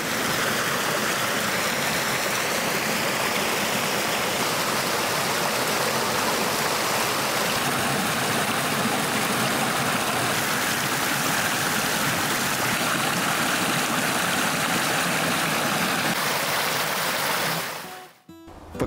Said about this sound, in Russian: Звонкая песня лесного ручья слышна издалека.